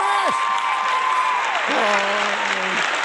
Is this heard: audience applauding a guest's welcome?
yes